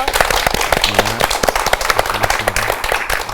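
A television talk-show studio audience gives loud, enthusiastic applause to welcome a guest. The clapping is dense and sharp, with faint tonal music humming underneath the claps.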